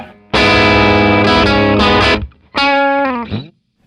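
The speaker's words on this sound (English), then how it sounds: "I have a built-in distortion pedal in this guitar simply by sweeping to this pickup" A loud, heavily distorted electric guitar rings out sustained chords, cuts off briefly, then returns with a short gritty phrase that fades into silence.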